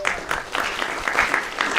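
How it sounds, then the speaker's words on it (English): A campus debate audience applauding a man in the crowd, with dense, lively clapping that rises and falls in quick waves and close hand claps standing out. "Give a round of applause for him."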